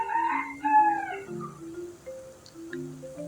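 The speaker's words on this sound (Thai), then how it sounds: "เสียงไก่มัน ดังนะครับ" A rooster crows once in the game Free Fire, a drawn-out cock-a-doodle-doo at the start, followed by softer trailing tones and faint background noise.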